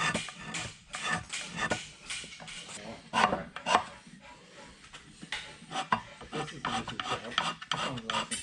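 Hand scraper rasping repeatedly across a blued machine surface, working outward from the center toward the ends, with steady overlapping scraping strokes close by and no talk.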